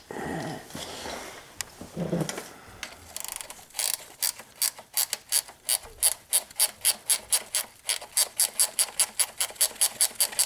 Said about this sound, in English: I just had a ratchet wrench